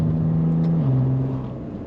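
A 2017 Maserati Levante S exhaust gives a short, loud, close rev, a deep droning engine note whose pitch dips slightly before fading.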